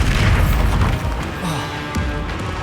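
A loud, deep boom from a Bombarda spell in the video game Hogwarts Legacy hits at the start, then rumbles and fades through a lower crackling tail.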